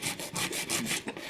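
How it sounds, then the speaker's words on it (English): A nail file held flat shapes acrylic nails square, quick close back-and-forth rasping strokes in a steady rhythm of about six passes. "just filing away until I get to the shape I want."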